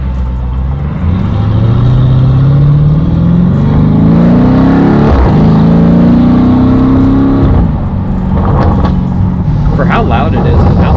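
Tuned Lamborghini Urus V8 with a downpipe and transmission tune, around 800 hp, revving and pulling hard nearby, a loud deep drone climbing in pitch, dipping briefly and rising again, with voices faint underneath.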